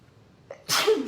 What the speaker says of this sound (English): I'm gonna sneeze. Of course I'm gonna sneeze.